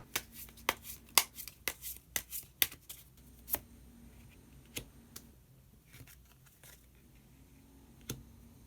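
Tarot cards shuffled and drawn by hand, a quick series of crisp paper flicks and slaps near the microphone, slowing into a few scattered soft taps and card snaps.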